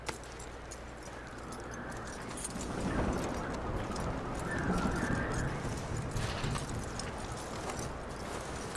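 Horse in Red Dead Redemption 2 moving along with clip-clopping hooves and shuffling gear, a steady mid-level bed of movement with a faint jingle, no talk over it.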